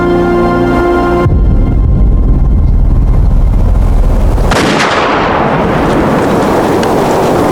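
Loud, heavy rifle fire from a buffalo hunt: a sustained blast followed by a long roaring, crackling rumble and a second sharp burst, close and dominating, with no voices.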